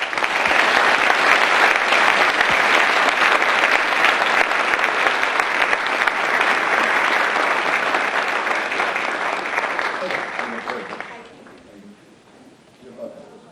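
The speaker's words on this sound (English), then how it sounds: "let's welcome Ms. Sasamori and Professor Hatasa with a round of applause." An audience gives a long round of applause welcoming two speakers to an evening talk, loud and sustained for about eleven seconds before tapering off into quiet room noise.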